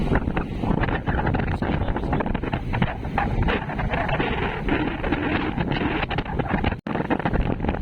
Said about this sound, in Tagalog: Malakas yung hangin dito.